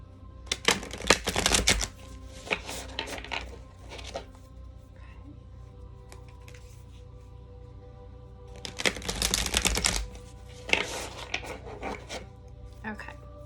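Tarot cards being shuffled and pulled in two riffling bursts separated by quieter handling, close and crisp, with a faint voice in the background.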